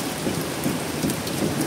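Steady rain pours down outdoors, a dense, even hiss of drops hitting surfaces that stays at a constant, fairly loud level throughout, with no voices.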